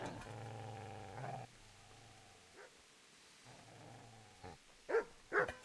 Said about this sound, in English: Hearing a dog bark.